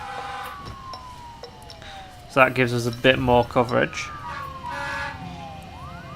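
Distant wailing fire engine sirens drift through the city-building game SimCity, rising and falling faintly under someone talking close and clearly in the foreground.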